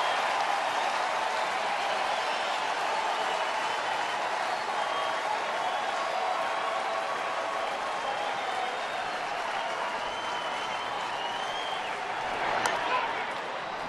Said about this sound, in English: Crowd's fired up.